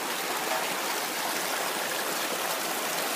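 Water diverted from another area running steadily at a temporary site, a continuous gentle rushing like a small stream, even in level and undisturbed by voices.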